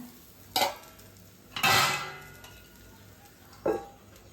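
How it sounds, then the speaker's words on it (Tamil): A lid set on a pan of cooking millet adai: three separate metallic clanks and rattles, the middle one longest and loudest, close with quiet gaps between. "மூடி போட்டு மூடி வச்சிடலாங்க."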